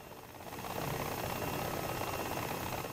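Helicopter engine in War Thunder, a steady rotor drone that swells in over the first half-second and then holds even and moderately loud, with no talk.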